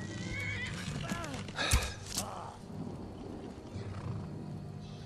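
A horse in the video game Skyrim lets out a sharp whinny amid game ambience, with hoof clatter and a loud thump, then fades into low background rumble; no one talks.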